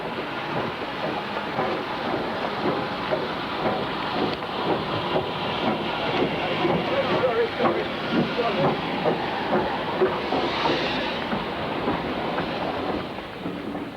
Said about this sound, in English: the 111-year-old engine made a stately entry into Loughborough Station